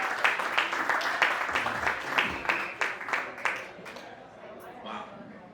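A crowd applauds steadily, dense clapping with scattered cheers, then it tapers off near the end.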